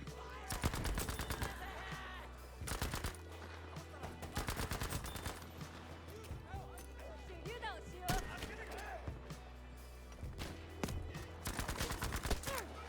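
Gunfire from the video game Battlefield V in repeated sharp bursts and automatic volleys over a low steady hum, some shots close and loud, others quieter, with scattered pauses between fusillades.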